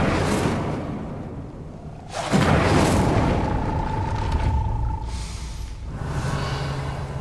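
The Incendio fire spell is cast in the Hogwarts Legacy video game: a sudden deep boom swells into a roaring, whooshing burst of flame that fades, then a smaller flare follows, with no speech.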